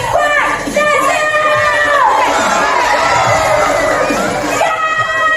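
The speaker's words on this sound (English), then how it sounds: "Everyone, get ready to clap." At an exotic bird show, an audience erupts in loud, close cheering and excited shouting, children's voices prominent, sustained throughout with rising and falling whoops.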